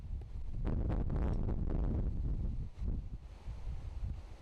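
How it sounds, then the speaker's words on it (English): Wind gusting across an outdoor disc golf course, roaring as strong buffeting against the microphone for a few seconds before easing into gentler gusts. "Lots of wind"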